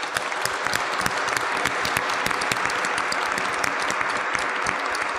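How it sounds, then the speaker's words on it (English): An audience at a closing session applauds, dense sustained clapping from many hands filling the room at steady loudness throughout. "Can you please stand up and join me in a round of applause?"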